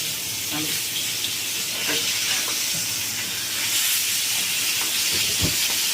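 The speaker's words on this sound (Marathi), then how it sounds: "थोडी जाड मच्छी असली ना थोडा वेळ लागतो भाजायला म्हणून कमी गॅसवरतीच भाजायची" Thick rani fish frying in a pan on low gas, a steady hissing sizzle with occasional soft pops and clatter close by, no speech over it.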